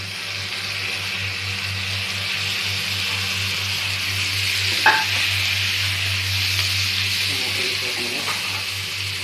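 Tomatoes frying in a pan with capsicum, turmeric and chilli spices, a steady close sizzle over a low hum, with one sharp clink of utensil against pan partway through.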